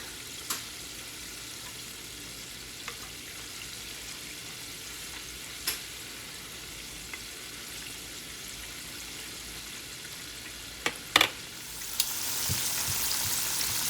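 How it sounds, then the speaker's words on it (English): Steady, close sizzling and crackling of chicken frying in hot oil, with a few sharp pops and a louder hiss burst near the end. "It's frying beautifully."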